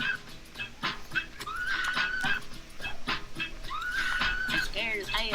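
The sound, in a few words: dogs whimpering and yipping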